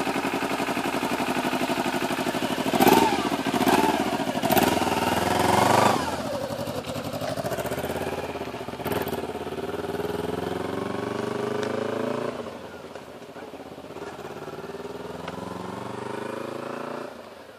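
A Kawasaki Ninja 250 motorcycle pulls away and accelerates, its mid-pitched engine note rising and shifting over a long, steady stretch at moderate distance.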